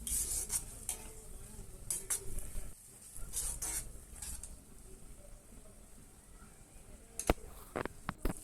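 Spice masala being stirred and fried in a pan for a meat dish in a Bengali kitchen, with soft sizzling under repeated scraping and clinking strokes of a spoon against the pan, plus a few sharper metallic knocks near the end.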